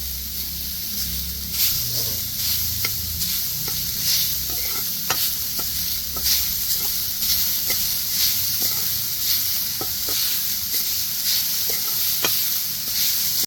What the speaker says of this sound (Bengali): কড়াইয়ের মধ্যে দিয়ে দিব নারকেল কুড়াটা